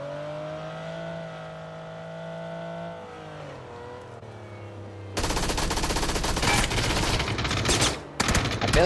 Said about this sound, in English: I feel like I'm shooting the shit out of this guy, but I didn't hit him.